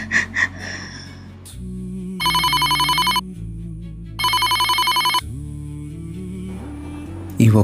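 A telephone rings in two loud bursts of electronic trilling between stretches of sustained low background music, with no voices heard over it.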